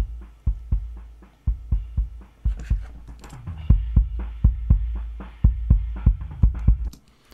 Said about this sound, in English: that is blended with the sub-kick mic